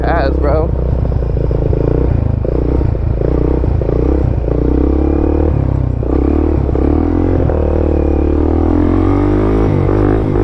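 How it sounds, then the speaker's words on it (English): A Suzuki DRZ supermoto motorcycle engine brakes and revs with a rough, pulsing drone heard from the rider's position, while wind buffets and someone talks over it. "I forgot how much engine brake the DRZ has"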